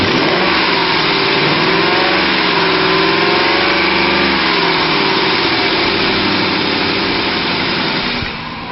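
A 2003 Ford F150 pickup with a 5.4 liter V8 runs close by, a steady loud engine drone with slight rises in pitch, easing off slightly near the end.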